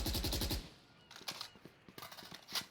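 Phantom rifle fire in Valorant: a fast automatic burst up front, then scattered short bursts and single cracks, moderately loud and a little distant.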